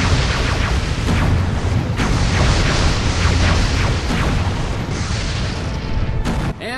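Loud, sustained rumbling blasts of spaceship explosions in the space strategy game Galactic Civilizations II, a dense continuous barrage of booms with sharper bursts throughout and a brief drop near the end.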